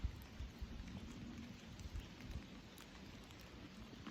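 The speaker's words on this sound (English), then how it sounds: "A little bit of rain filtering through the leaves in the Westwoods this morning." Light rain patters through woodland leaves on a morning in the Westwoods, a soft, steady, faint hiss of scattered drops with no voices.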